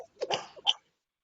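A single sneeze in a quiet meeting room, a short sharp burst followed by a brief second exhale, then silence.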